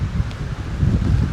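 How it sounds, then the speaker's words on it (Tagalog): Strong storm wind buffets the microphone along the coast at Dingalan, Aurora, a steady low roar with gusts swelling toward the end, no talking. "Binagyo po yung punta natin dito. Ang lakas po ng hangin."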